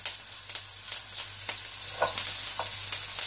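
Curry leaves crackle and sizzle in a hot pan with ginger, garlic and green chilies, a steady bright hiss broken by a few sharper pops near the end.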